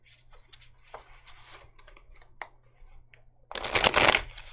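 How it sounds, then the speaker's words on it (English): Tarot cards shuffled by hand, a burst of rapid riffling flutter after a few seconds of quieter card handling and light taps, close and fairly loud. "Let's get a proper shuffle on these."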